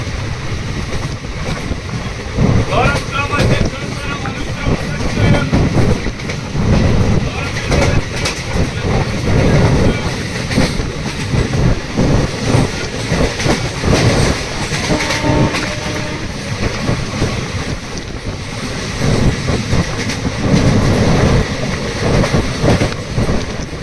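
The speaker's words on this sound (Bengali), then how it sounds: "ট্রেন কিন্তু স্পিড ধরেছে আর মোটামুটি ভালোই তাড়াতাড়ি চলছে" A passenger train on the Kolkata to Digha line runs at speed, a loud, dense roar of wheels and rushing air with rhythmic rail clatter throughout, heard from inside the carriage.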